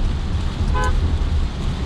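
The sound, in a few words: car horn honking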